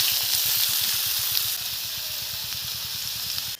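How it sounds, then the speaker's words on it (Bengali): Oil fries in a wok-like kadai while cooking a village-style jackfruit curry, a steady, close sizzle and hiss that holds evenly throughout with no voices. "হালকা করে একটু ভেজে নেব।"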